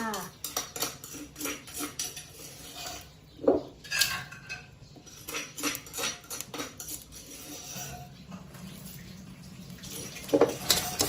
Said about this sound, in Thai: นำเปลือกไข่ที่ตำแล้วนะคะ มาคั่วในไฟแบบนี้เลยค่ะในกระทะนะคะ